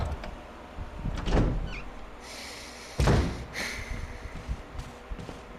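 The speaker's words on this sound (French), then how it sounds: "je crois que je suis rentré dans la même porte" A door in the Resident Evil video game opens and closes, with two sharp thuds about two seconds apart set against a low ambient hum, plus softer creaks and a sliding rush in between.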